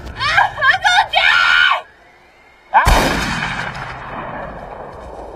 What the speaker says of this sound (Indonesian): Allison pun berteriak sangat keras